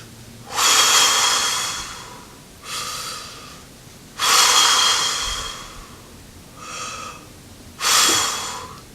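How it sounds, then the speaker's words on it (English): Three slow, deep breaths drawn in calm succession, each a broad airy inhale followed by a softer exhale, close and alone with no talk. "3 deep breaths."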